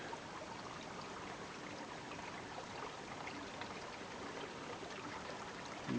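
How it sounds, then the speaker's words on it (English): Water trickles down a mossy, stony creek in a state forest as a steady, soft, continuous wash with no voices. "A little bit of water trickling down in there"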